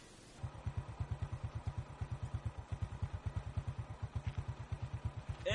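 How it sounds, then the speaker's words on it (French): A motorcycle left running in the bush idles steadily with an even, rapid pulsing putter that starts just after the opening and holds close and clear to the end, with no voices. "ce n'est pas très prudent de laisser la moto en marche et de rentrer dans la brousse"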